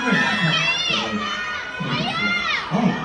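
Fans at a K-pop fan signing event scream and cheer, with high-pitched shouts rising in waves over a constant crowd roar.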